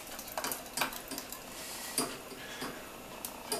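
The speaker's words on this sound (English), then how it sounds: "as I whisk, we're going to whisk constantly here" A whisk clatters in a pot of strawberry pie filling, giving faint, irregular metallic taps and scrapes at close range with no talk.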